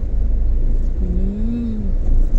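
Road traffic near the Esplanade with many motorcycles passing: a steady engine rumble with a rising whine from one passing bike, close and continuous.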